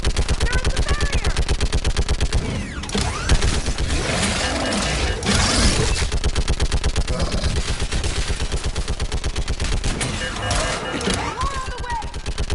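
Rapid automatic gunfire in a firefight in the video game Mass Effect 3, continuous loud bursts of machine-gun fire with clattering and brief pauses, while voices shout over it.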